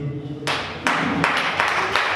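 Audience applause at a Congolese community's second-anniversary gathering in South Africa bursts in after a brief pause and carries on as a dense, steady wash of clapping, with a couple of louder swells.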